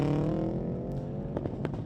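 A Subaru's engine revs hard at the start line of an autocross run, a loud sustained engine roar with rising harmonics and a few sharp bursts near the end.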